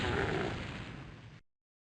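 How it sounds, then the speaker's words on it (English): A rocket launcher fires in DOOM (TNT: Evilution), a single loud, close blast that rumbles and fades over about a second and a half before cutting to silence. "I guess I can get the rocket launcher out for these guys"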